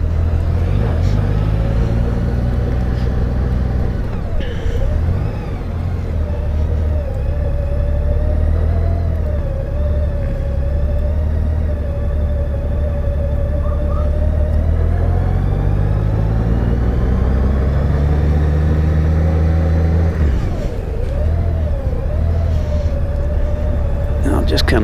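A car rolls through a large gas station near Giddings, Texas, its steady engine rumble and road noise filling the cabin as someone talks over it throughout.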